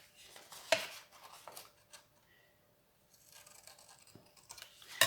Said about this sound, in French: Et vous allez le couper de chaque côté, donc en haut de votre carte.